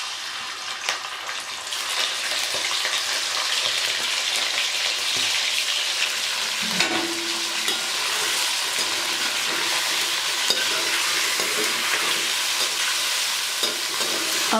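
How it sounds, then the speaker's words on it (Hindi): Chicken frying with spices in a pan for biryani, a dense, steady close sizzle with occasional spoon knocks and scrapes as it is stirred, without voices. "अब मैं मसालों के साथ चिकन को थोड़ी देर फ्राई कर लूँगी।"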